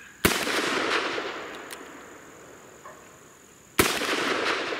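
Two loud, sharp gunshot blasts about three and a half seconds apart from a Colt Anaconda 4-inch .44 Magnum revolver fired at an outdoor steel gong, each crack followed by a decaying ring and echo, with quiet between shots.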